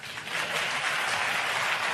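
Snooker crowd at the China Open in 2017 applauding a shot in a Ronnie O'Sullivan match, a steady, full round of clapping sustained throughout without a break.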